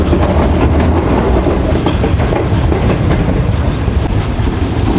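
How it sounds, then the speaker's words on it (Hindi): Shalimar Express passenger train rolling toward Ghotki railway station, a loud, steady rumble with continuous clickety-clack of wheels over rail joints and dense low-end roar throughout, no voices. "ट्रेन हमारी अप्रोच बना रही है घोटकी रेलवे स्टेशन पर"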